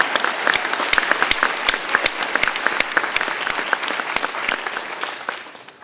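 Audience applause at a firefighter academy graduation ceremony, loud and sustained clapping from a crowd with sharp distinct claps standing out, tapering slightly at the end.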